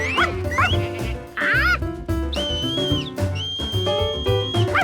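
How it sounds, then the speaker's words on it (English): Several short whistled tones and slides, some rising and falling, others held steady, over a busy musical backing. "Now George wondered how to whistle "come back.""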